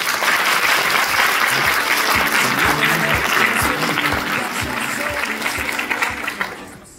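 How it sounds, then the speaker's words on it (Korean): A hall audience applauds at a clinical laboratory science student forum, a loud, dense, sustained clapping from many hands that carries steadily and tapers slightly near the end, with faint voices underneath. "큰 박수로 함께 해주시기 바랍니다."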